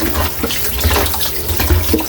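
Tap water runs steadily into a sink while a stingray is washed, a close, continuous splashing rush with small irregular spatters and no talking.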